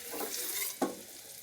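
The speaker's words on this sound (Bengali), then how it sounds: "এই যে আমার পনিরগুলো হালকা ভাজা হয়ে গেছে" Paneer pieces frying lightly in a pan for a paneer and cauliflower roast, giving a steady soft sizzle with one sharp knock of a spatula partway through.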